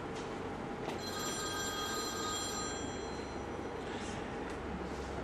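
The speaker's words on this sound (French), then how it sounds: "On ne répond pas, on fait comme si la sonnerie, c'était la rentrée des classes" A telephone rings, its bell sounding continuously at a moderate distance over a steady background hiss, with a brief tonal accent near the start.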